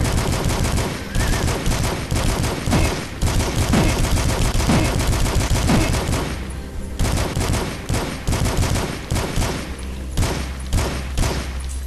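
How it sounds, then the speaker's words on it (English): Assault rifle fire in the first-person shooter DUSK, with loud rapid automatic bursts rattling almost continuously, briefly pausing before resuming, close and dominant with no talking. "so there's my assault rifle"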